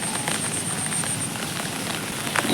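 Rain falls steadily on a rooftop garden with flowering plants, a continuous hiss with scattered drop patters, fairly even and close, with no talking.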